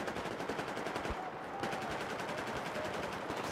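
Gunfire in Battlefield 4 multiplayer on the Flood Zone map in Domination mode: rapid automatic bursts of shots rattling in quick succession, fairly quiet, with a brief pause before firing resumes.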